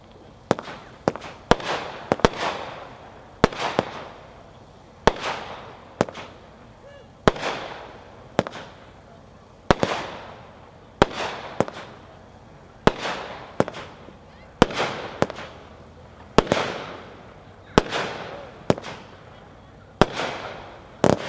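Luck of the Irish, a 16-shot Gunslinger fireworks cake, fires a rapid series of sharp launch thumps and loud crackling bursts. Each bang trails off into a decaying rumble, with irregular gaps between shots at a moderate distance.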